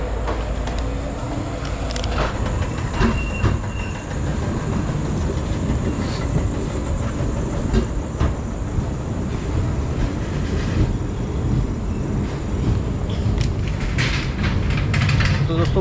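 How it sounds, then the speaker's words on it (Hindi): A passenger train bound for Prayagraj and Varanasi via Bilaspur rolls along, heard from inside with a steady low rumble, rhythmic wheel clatter and occasional squeals, while people talk in the background. "जैसे कि आप देख रहे हो जो ट्रेन है वो चल पड़ी है"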